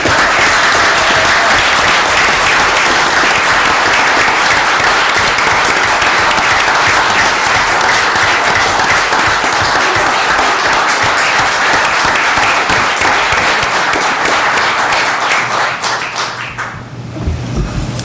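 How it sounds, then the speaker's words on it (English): Sustained loud applause fills a room at a Lebanon, Oregon city council special meeting, many hands clapping in a thick continuous wash that fades out near the end. "Okay, let's just give him one more round of applause."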